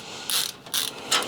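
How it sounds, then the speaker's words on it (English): Three quick ratcheting bursts from a screwdriver loosening screws on a PC case, close and fairly loud, evenly spaced within about a second. "We're actually going to have to take out all 6 screws."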